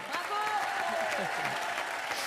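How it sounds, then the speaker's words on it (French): Steady applause from an audience fills the clip, with a voice briefly audible over the clapping. "On applaudit fort Natacha, Amal et Sébastien."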